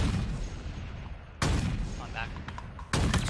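Sniper gunfire in a first-person shooter game: two heavy, booming shots about a second and a half apart, each with a rumbling decay, close and loud over background battle noise.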